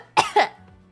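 Two quick, close coughs in succession, harsh and breathy, followed by a faint low throaty sound.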